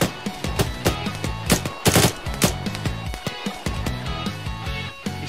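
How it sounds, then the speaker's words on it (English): Rapid automatic gunfire and scattered shots ring out in an Arma 3 firefight at night, bursts of fire stacking over one another with loud cracks and layered echoes through the full span, no voices. "Where are we taking fire from?"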